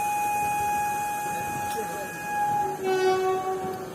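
A train pulls away from a station, with a steady rumble and sustained tonal whines under continuous noise and a shift in pitch toward the end.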